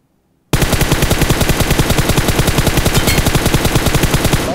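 Automatic weapon fire in the battle royale game PUBG, played on an iPhone 11: a long, loud, rapid rhythmic burst of shots starting abruptly after a brief silence and continuing without pause.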